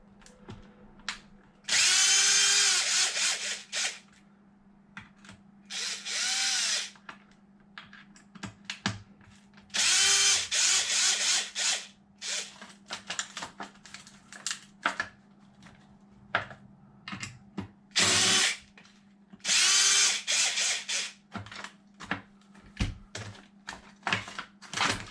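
Power tool backing bolts out of an Arrma Outcast 8S RC car, with repeated short bursts of high-pitched whirring separated by pauses and light clicks and taps of handling, close up with no speech.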